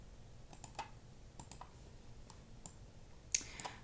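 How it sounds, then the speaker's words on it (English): Sparse, irregular plastic clicks of numbers being typed on a calculator keypad, quiet and close, in small bursts with short pauses between presses. "all I need to do is type in these numbers into a calculator"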